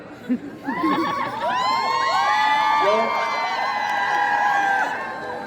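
A young audience at a stage performance hoots, whoops and cheers loudly, with high shouted calls rising over a dense, sustained crowd roar that stays near and steady for several seconds.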